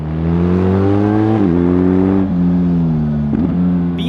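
A BMW boxer-twin motorcycle engine runs loud and close, steady then rising through several revving pulls with gear-change dips, a smooth mechanical drone with no voices.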